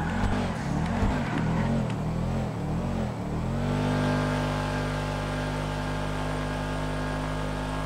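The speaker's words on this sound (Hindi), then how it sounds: "नंबर सेकंड पर जो गाड़ी है वो है निसान GTR" Nissan GTR sports car in GTA 5 accelerating hard, its engine rising in loud, continuous revs and then holding a steady high drone at speed, close and alone without talk.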